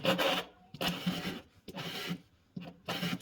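A scraper fitted with a fresh blade is pushed in repeated strokes across a glass induction or infrared cooktop, giving four rasping scrapes with short pauses between them, close and moderately loud, and no one speaking.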